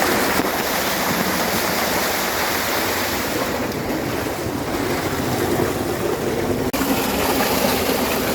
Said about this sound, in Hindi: ये ट्यूबवेल का पानी इधर से निकल के